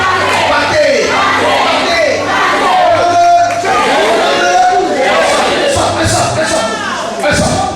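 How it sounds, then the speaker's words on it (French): A church congregation cheers and acclaims Jesus, a loud, sustained crowd roar with shouts and voices layered throughout, steady from start to finish. "On acclame Jésus."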